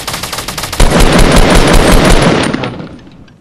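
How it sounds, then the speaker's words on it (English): Loud, rapid volley of grenade launcher fire in Fortnite, a dense continuous barrage of blasts lasting a few seconds before trailing off. "I'll shoot my grenade launcher"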